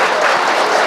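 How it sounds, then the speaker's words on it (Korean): A crowd at a Daegu talk event claps for a speaker, a loud dense burst of applause, brief and continuous, with no talk over it. "박수 부탁드리겠습니다, 여러분들."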